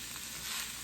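Pre-cooked sausage browns in a pan with a steady, close sizzle of frying fat, brief and unbroken.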